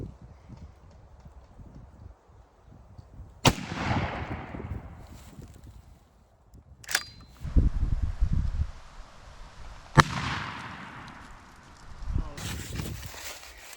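A shotgun loaded with Federal Grand Slam 3-inch turkey shells in 6 shot fires outdoors, producing a few sharp, loud reports spaced several seconds apart, with rustling and a voice in the quiet gaps.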